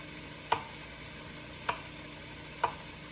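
A sauce simmers in a pan while a spoon knocks against it three times, each a sharp, isolated clink about a second apart, over a low, steady kitchen hum.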